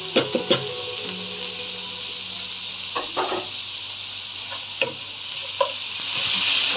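Onion and capsicum stir-fry in a hot pan for fried rice, giving a steady close sizzle with a few sharp clinks and scrapes of the spatula near the start and a brief scrape later.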